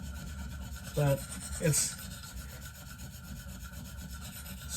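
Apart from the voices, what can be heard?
sharpening a Benchmade knife on a KME 300 stone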